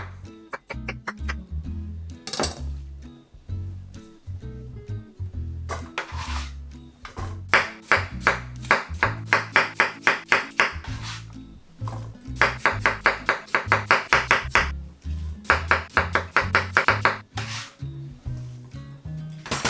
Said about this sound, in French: Et là, je peux couper des dés.